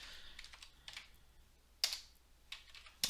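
Typing on a computer keyboard, a quiet run of light key taps followed by a few sharper, isolated keystrokes as characters are backspaced out.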